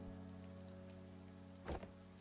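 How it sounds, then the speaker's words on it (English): Soft, steady rain patters faintly in the background under a sustained musical drone, with one brief louder splash near the end. "It's raining."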